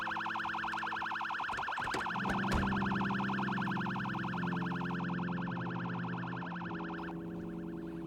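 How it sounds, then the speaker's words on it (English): A ranger truck's siren in Project Zomboid sounds as a steady, rapidly pulsing electronic warble, loud and continuous, with a brief clunk partway through. "turning on the sirens"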